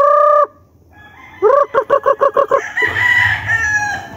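Several young stag roosters crow at close range, one call, then a rapid stuttering series of crows, followed by overlapping clucks and fowl calls from a farm flock.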